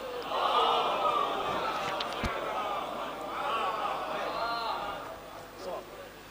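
Mourning gathering at a Muharram majlis in an imambargah chanting salawat in unison in response to a call, a loud swelling collective voice that rises, dips briefly and surges again.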